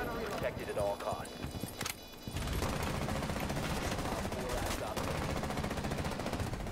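Rapid bursts of video game gunfire crackle loudly and continuously, with a voice talking over them.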